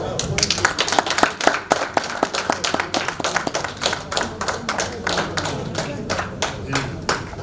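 Lecture audience at a gala night claps steadily, a room full of hands beating in a dense, even patter for the whole stretch, close and loud, with some voices underneath.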